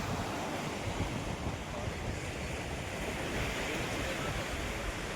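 Rough sea waves surge and crash continuously at Bhimili beach in Visakhapatnam, a dense, loud roar mixed with heavy wind buffeting the microphone.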